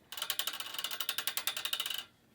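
A longarm quilting frame ratchet clicks rapidly and evenly as the quilt is rolled, about twenty sharp close clicks in a steady burst before stopping.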